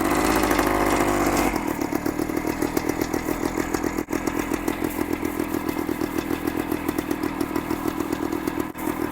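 Cold Kawasaki Scrambler motorcycle engine catching on the first kick after a couple of pumps, a loud burst that settles into a steady, rapid, close thumping idle with no talk.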